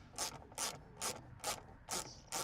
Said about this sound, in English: you can actually undo it with an 8mm socket